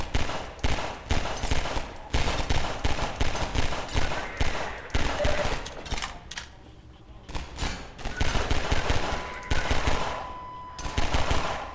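Rapid bursts of automatic gunfire ring out in Half-Life 2, loud and close, coming in repeated volleys with short gaps between them.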